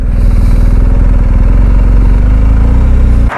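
A motorcycle engine runs loud and close, a steady low throbbing that holds even as the rider eases into a gentle, controlled start, then cuts off abruptly at the end.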